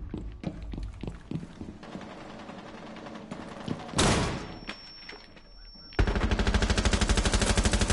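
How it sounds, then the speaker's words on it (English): Bursts of rapid gunfire in a multiplayer shooter video game, loud and close with sharp repeated shots, a dense automatic volley near the end, mixed with game noise and a voice talking. "Someone just shot at me."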